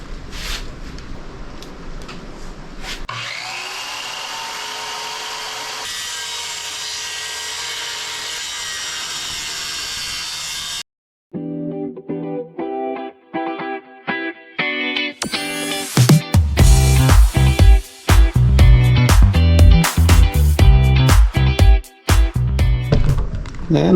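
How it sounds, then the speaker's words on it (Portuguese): A circular saw whines and bites through wood for the floor of a Mercedes MB 180d motorhome, with a long steady spin, a pause, then loud rough cutting bursts close by. "agora é hora de testar a nossa serra circular"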